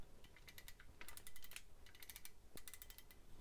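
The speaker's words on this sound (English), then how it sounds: "Ratchets are different in the knees, a lot kind of more subtle if you listen." The ratcheting knee joints of a Masterpiece Soundwave toy figure give quiet, close, rapid clicking in short bursts, dense rows of small ticks separated by brief pauses.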